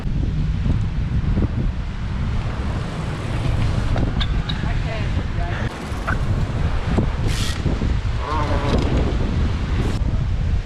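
Strong hurricane winds roaring and buffeting the microphone while motorcycle wheelies are ridden in Dublin and Pleasanton, California, a constant heavy rumble with brief gusts and bits of road and engine noise underneath.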